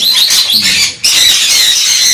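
Loud, dense squawking and shrill chirping from several pet parrots close by, including sun conures, overlapping continuously with a brief dip in the middle.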